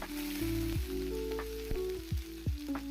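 Green chilli and curry leaf tempering frying in a pan for sago idli, a steady close sizzle broken by several sharp spoon scrapes and knocks against the pan, no voices.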